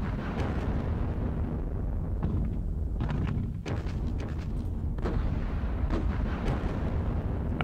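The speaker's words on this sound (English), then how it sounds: "Got hit by some heavy guns there." Heavy gun artillery fire in the World War II strategy game Panzer Battles Kursk, a dense continuous rumble of booming blasts with sharper cracking bursts layered on top, loud and unbroken throughout.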